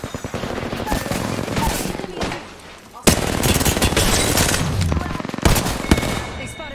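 Rapid automatic gunfire in the video game Apex Legends, loud sustained bursts of shots with a short lull in the middle, then more volleys, with a voice speaking over parts of it.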